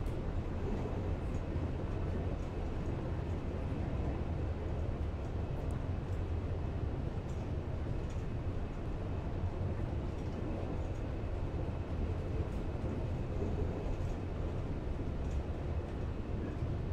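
In Train Simulator 2021, a train rolls into Frankfurt Westbahnhof with a constant rumble of wheels on rails and a low drone from the cab, steady throughout.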